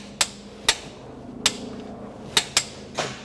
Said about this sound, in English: You'll hear that torque wrench.